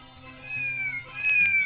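A cat meows in a drawn-out, wavering call, then a second rising meow follows after a short pause, close and fairly loud over a faint background hum, with no talking.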